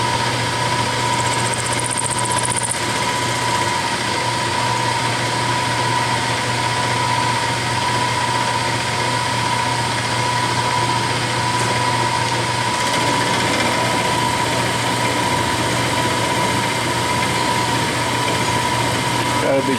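Milling machine climb milling a round insert lathe tool holder, a steady loud motor whine with a constant tonal hum and cutting noise, running continuously and close; a voice may be faintly present.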